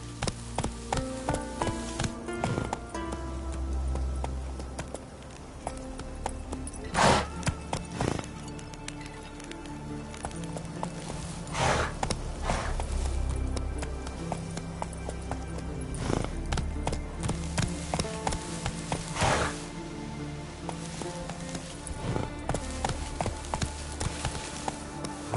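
Roach, a horse in The Witcher 3, runs with rhythmic clip-clop hoofbeats that keep a steady gait, while game music and a few louder thuds sit around them.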